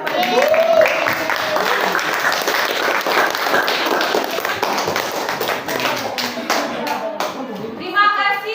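Classroom applause for students after their presentation in a mathematics lesson on right triangles, a lively burst of many small hands clapping close by, with a teacher's and children's voices over it.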